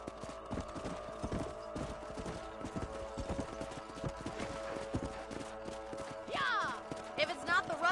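Horse hooves clip-clopping in the Red Dead Redemption video game, a steady, rhythmic walking gait heard clearly throughout, with a horse's whinny near the end.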